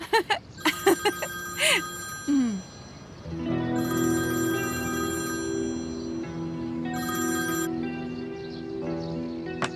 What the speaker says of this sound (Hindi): तुम फोन क्यों नहीं उठा रहे हो? कब से फोन बज रहा है